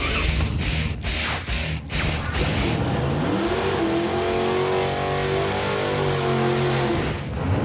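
A 1970 Ford Mustang engine revs up hard and holds a deep, throaty roar for several seconds before backing off, loud and close.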